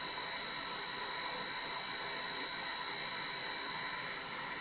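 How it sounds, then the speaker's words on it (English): An Epson F6370 44-inch sublimation printer runs a print job, giving off a steady, fairly quiet broadband mechanical whir with a thin high whine throughout, with no talk over it. "I just click print, and you can hear the printer's already. It's already printing."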